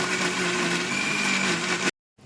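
A kitchen blender churns banana with Oreo biscuits in a loud, steady, close whir that holds for about two seconds and then cuts off abruptly into silence.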